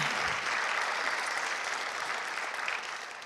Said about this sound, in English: One more round of applause for those beautiful words